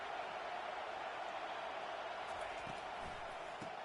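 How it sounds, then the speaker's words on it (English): Steady roar of a stadium crowd in an American football video game, a constant wash of noise filling the whole clip with no clear peaks. "This crowd bringing the energy and noise early."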